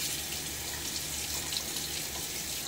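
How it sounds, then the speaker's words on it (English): Steady tap water runs continuously into a sink during rinsing after a shave, a close, even hiss with no talking. "I just finished rinsing"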